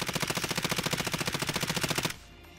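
Rapid automatic gunfire in Warzone, a steady stream of about thirty evenly spaced shots at a fast rhythm, loud and close, cutting off sharply into near silence.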